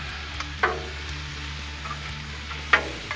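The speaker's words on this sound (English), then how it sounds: "Get our steak all cut up here and spread out" Cut-up steak sizzles on a flat griddle for cheesesteaks, a steady low crackle with a constant hum beneath and a couple of sharp scraping clanks from a utensil.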